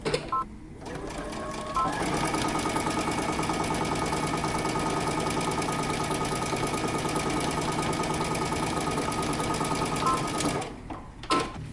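A sewing machine stitches the underarm seam of a jacket sleeve, running continuously and close for most of the stretch, with a brief start and a quick stop near the end.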